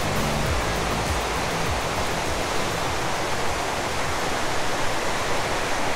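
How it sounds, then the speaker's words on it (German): Wild river in Norway near the Geirangerfjord, rushing water forming a loud, steady, broadband roar that fills the whole stretch without any break. "Und solche wilden Flüsse, die sehen wir in Deutschland ja überhaupt gar nicht."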